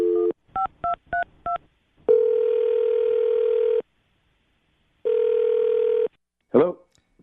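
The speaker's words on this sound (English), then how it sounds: "I'm going to dial his phone number right now and see if we can get him on the phone." A rapid series of dialing beeps, then two long steady ringing tones with a pause between, ending in a short burst as the line connects.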